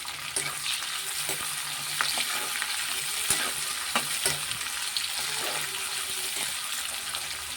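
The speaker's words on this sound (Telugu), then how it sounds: "అలా ఫ్రై అవనిద్దాం బాగా" Onions and green chillies frying in a pan for a chicken masala gravy, a steady close sizzle with occasional stirring scrapes and clinks running throughout.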